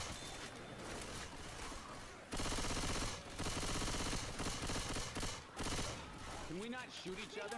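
Rapid gunfire bursts in Left 4 Dead 2 during the Hard Rain campaign on PC, loud and dense with brief pauses, mixed over game music and effects.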